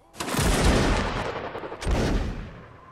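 Two loud, rolling musket volleys crash out in a Napoleonic Wars line-battle video game, one near the start and a second about halfway through, each a dense burst of overlapping shots that slowly decays.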